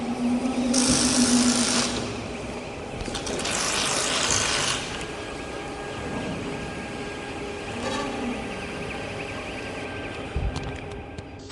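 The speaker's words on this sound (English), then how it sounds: "Next, manually push all pins all the way down." Positioning pins on a RONGWIN panel bender are pushed down by hand, producing ratcheting mechanical clicks and rattles in bursts over a low background machine hum.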